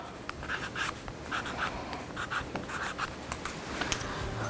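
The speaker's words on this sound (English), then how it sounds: "you can write stigma on the tube" A pen writes on a paper tube that forms part of a handmade flower model, giving a steady run of quiet, scratchy strokes with short pauses, close and alone with no talking.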